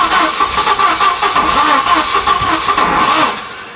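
An old Volvo car engine cranks loudly and steadily in a sputtering mechanical churn, struggling without catching, with timing that seems to be off.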